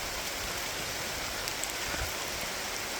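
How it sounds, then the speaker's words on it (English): Steady rain falling at the Bamboo Cathedral on a hike, a dense continuous hiss of drops on leaves and ground, even and unbroken, with no voices. "Still raining, but still having fun."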